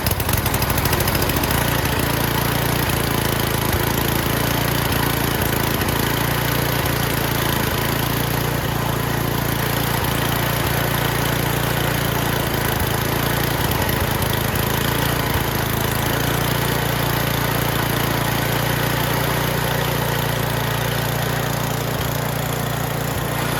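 Small engine of a snow thrower running with the throttle up, a steady loud droning roar that holds unbroken throughout, close by.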